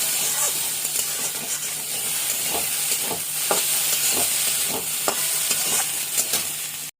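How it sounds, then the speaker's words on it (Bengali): Boiled mung and masoor dal is stirred into a hot pan, giving a loud, steady sizzling hiss broken by repeated short scrapes of the ladle, close up with no talking. "মুগ মুসুর যে ডালটা সেদ্ধ করেছি তার মধ্যে একটুখানি ডাল সেদ্ধটা তুলে এর মধ্যে দিয়ে ভালো মতো নাড়াচাড়া করে"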